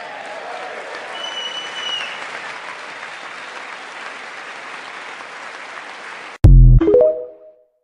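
Audience applause in a played recording of a speech: sustained, moderately loud clapping and crowd noise, then abruptly cut off by a loud thump and a brief tonal burst.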